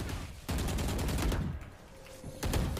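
Rapid gunfire bursts from the tactical shooter Valorant, played on the Icebox map: several sharp, close shots in quick clusters with short gaps between them, and no talking over them.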